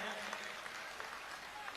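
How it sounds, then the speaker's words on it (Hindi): A crowd at a Hindu religious gathering with poets claps steadily and densely, a short burst of applause with a voice faintly underneath. "एक बार इन कवियों के लिए आप दोनों हाथ उठाकर जोरदार तालियां बजाइए"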